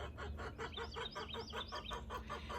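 Backyard hens sing in a rhythmic series of repeated clucking calls, fairly close and steady, with a soft outdoor hum beneath.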